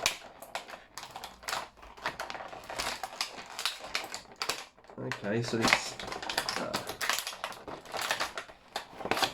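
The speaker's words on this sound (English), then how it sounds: "Apologies for all the noise. It's trying to get it out of the box." Crinkling and tearing packaging as a figure is pulled from its box, with rapid plastic rustles and clicks, close up, as a voice speaks briefly over the noise.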